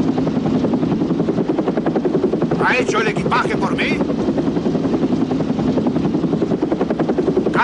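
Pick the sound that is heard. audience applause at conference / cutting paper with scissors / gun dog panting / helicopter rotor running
helicopter rotor running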